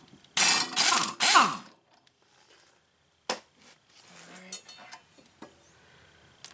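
A ratchet with a 9/16 socket works on a push lawn mower blade, three loud bursts of rapid ratcheting clicks up front, then faint scattered clinks and taps of metal.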